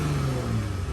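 A yellow 2017 Dodge Challenger GT AWD with its standard exhaust and eight-speed automatic gives a quick throttle blip, a loud, close engine rev that swells and settles over a single second with no voices.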